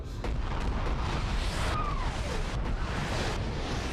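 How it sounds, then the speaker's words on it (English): In the mech combat game Battletech, an artillery strike booms against an outer wall: heavy, rumbling explosions and cracks land in quick succession, loud and dense, with a whistling streak passing through midway. "Artillery strike on the outer wall there."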